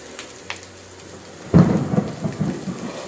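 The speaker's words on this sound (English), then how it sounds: "That's lightning." A sudden loud thunderclap from a lightning storm in Florida, rolling and rumbling for over a second after a short quiet lead-in, with faint rain-like hiss in the background and no talking.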